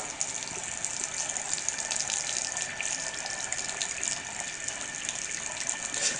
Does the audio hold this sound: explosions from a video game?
no